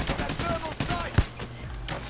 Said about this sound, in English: I just fired everything I got into his head